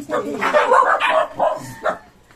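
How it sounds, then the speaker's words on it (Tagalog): Several dogs bark and yip close by in quick bursts, mixed with a person talking. "Maingay sila kasi. Ayan, meron pong mga aso sa labas."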